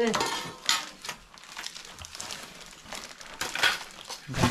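Metal utensils and steel plates being handled and knocked together, a series of irregular clinks and clatters at close range, moderately loud, with brief bursts of rattling between quieter moments.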